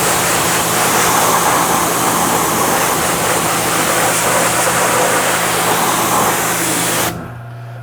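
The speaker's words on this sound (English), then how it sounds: "spray it off with pressure." A pressure washer blasts water in a steady, loud, hissing spray while rinsing an enclosed Trailex trailer, then cuts off abruptly near the end, leaving a low hum.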